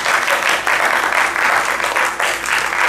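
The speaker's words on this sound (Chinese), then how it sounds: "换我们这些超过30岁以上的用力鼓掌给他们听一下" Sustained applause from a school-hall audience of adults, steady dense clapping that fills the whole stretch at full level with no voices on top.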